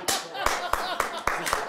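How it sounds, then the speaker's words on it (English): Clapping at a conference session, a slow run of about six loud, evenly spaced claps up close. "Give us a big clap, Ron."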